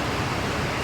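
Steady heavy rainfall outdoors makes a constant broadband roar, loud and unvarying throughout, with nothing else standing out.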